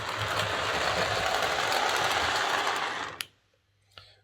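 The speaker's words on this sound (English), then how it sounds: "There's a wee bit of a grinding noise and it's a bit clunky and rattly, but then these old locomotives tend to be." A rattly, slightly wobbly Hornby Dublo A4 Class Silver King model locomotive motor whirs and rattles steadily for about three seconds, then cuts off, leaving two faint clicks in near silence.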